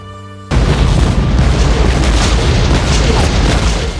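A sudden heavy air strike explosion in a war film erupts after a brief tonal hum, then a loud rumbling roar sustains for several seconds.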